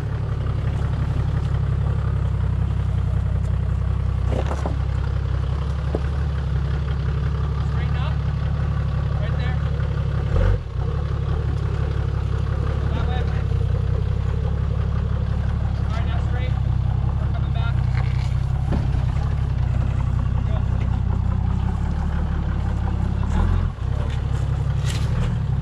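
A vehicle's exhaust idles at a crawling event, a low steady rumble that drones loud and constant throughout while people talk over it.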